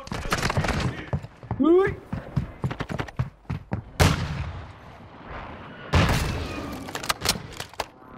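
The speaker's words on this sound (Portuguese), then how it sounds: "Granada de concussão!" Concussion grenade detonating in the Warzone 2 shooter, with two sharp loud bursts that trail off amid scattered gunfire and shouted voices.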